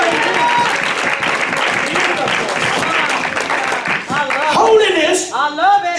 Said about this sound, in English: Give the Lord a hand and clap of praise.